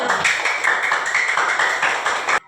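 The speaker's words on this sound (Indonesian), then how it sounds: "silakan dulu beri tepuk tangan untuk dia" A classroom of students applauds a classmate with a brisk, dense burst of clapping that holds steady for about two seconds and then stops abruptly.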